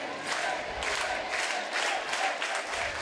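A crowd cheers and claps at a high school volleyball game, Sheyenne versus West Fargo on Halloween night, with a steady roar of applause and shouting from the stands and surges throughout, under commentary.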